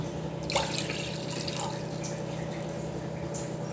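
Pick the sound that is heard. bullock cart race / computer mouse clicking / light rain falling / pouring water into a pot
pouring water into a pot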